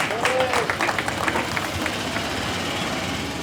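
A crowd gathered at a public golf course, the Muni, applauds loudly and steadily for the man who has directed the event since its start, with some cheering and a few voices mixed into the dense clapping.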